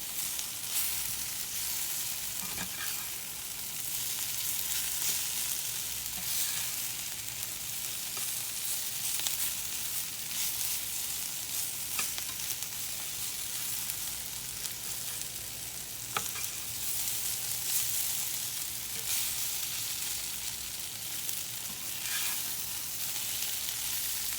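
Summer squash sizzles and crackles steadily in a skillet, a continuous close frying hiss with scattered pops throughout and no talking.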